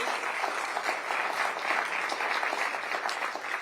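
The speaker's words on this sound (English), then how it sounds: "So one more round of applause for two" An audience at a Rotary club debate claps steadily throughout, a continuous dense patter of many hands at moderate distance.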